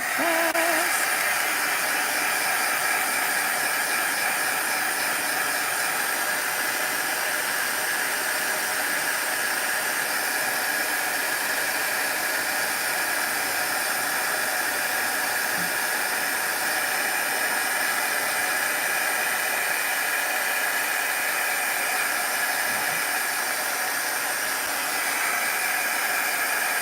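A heat tool for craft work runs steadily for the whole stretch, a loud, constant blowing hiss close by with no pauses.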